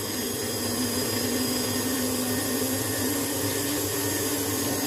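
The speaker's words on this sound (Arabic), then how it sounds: "هبدا انزل بقى بالدقيق واحده واحده كده، واشغل المكنه لحد ما العجينه عندي تلم كلها" An electric mixer machine kneads orange biscuit dough as flour goes in, a loud steady motor whine and hum with no breaks, close by and running alone without talk.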